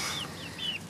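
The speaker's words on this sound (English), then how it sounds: "Hey, chickens outside." Chickens make short rising squawks and clucks over a steady outdoor hiss, moderately near.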